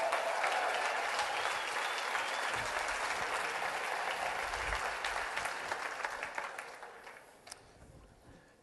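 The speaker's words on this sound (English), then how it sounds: "Give them a round of applause." A conference audience claps in sustained, dense applause that fades out near the end into a few scattered claps.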